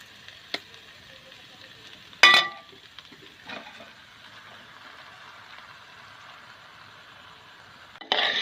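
Cooked rice and egg being stirred together in a pan for tomato rice, giving a faint, steady sizzle broken by a few sharp utensil clinks and scrapes, with no talking.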